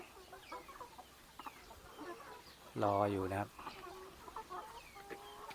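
Large farm chickens, about twenty-one weeks old and not yet laying, give one loud, close, drawn-out call among quieter scattered clucks, with a brief spoken phrase nearby.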